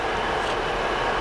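A CrossCountry 19:45 train service from Cardiff Central to Nottingham fills the air with a steady, loud, broadband roar that holds unchanged through the short moment.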